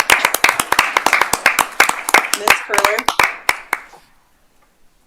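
Applause at a city council meeting, a small group clapping fairly close with distinct individual claps that thin out and stop after about four seconds, followed by near silence; a voice speaks briefly over it.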